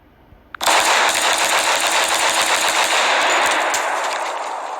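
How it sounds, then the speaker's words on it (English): Rapid, loud volley of .45 caliber shots from 1911 pistols fired at a paper target, a dense string of cracks starting abruptly and continuing for about four seconds before tapering off slightly. "shooting 45 slugs at that paper"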